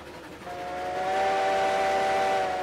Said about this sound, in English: So this is the new whistle.